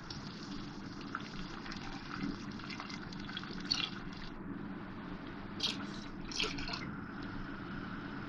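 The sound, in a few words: milk being poured into pan for sheer khurma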